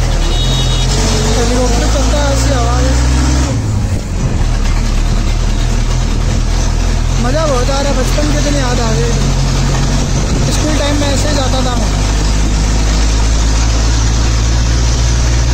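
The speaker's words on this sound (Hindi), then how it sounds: "बस चल रही है जैसे कोई हेलीकॉप्टर चल रहा है" A bus engine runs loud and steady with a heavy low drone and a chopping, helicopter-like beat as the bus moves through traffic. A voice talks over it.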